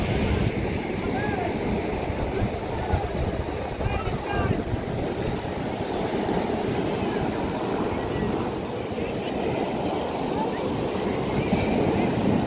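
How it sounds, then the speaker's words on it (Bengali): Big sea waves breaking on Old Digha beach, a loud continuous roar of surf with wind buffeting the microphone, faint crowd sounds from bathers beneath. "দেখো জাস্ট ঢেউগুলো দেখো, কত বড় বড় ঢেউ আসছে।"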